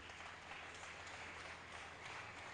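Church congregation applauding Jesus during a sermon, a dense, continuous wash of clapping heard from a distance, steady and fairly faint throughout.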